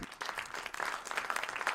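A live audience at a sailing talk show applauds briefly. Dense, even clapping is heard at a moderate distance, with no voices over it.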